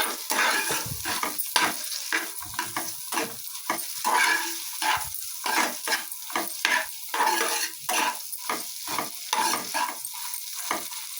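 Maggi noodles with Maggi masala and egg fry in a pan while being stirred, giving a loud continuous sizzle broken by repeated scraping strokes of the stirring utensil, with no voices.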